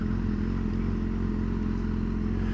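A Yamaha FZ6 600 motorcycle engine droning steadily at a constant, fairly loud pitch with a slight clattery texture, alone with no talking.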